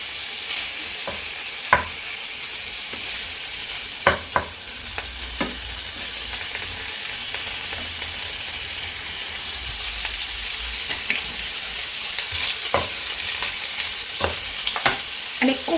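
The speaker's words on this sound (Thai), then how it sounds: "ทอดกุ้งก่อนนะเพื่อน" Shrimp fry in hot oil in a pan for pad thai, giving a steady, close hiss of sizzling. Scattered sharp pops and crackles break through now and then.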